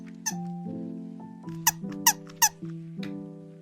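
A KiwiCo animatronic studio puppet dog gives several sharp, high squeaks over a steady mechanical whine from its motor, close and fairly quiet.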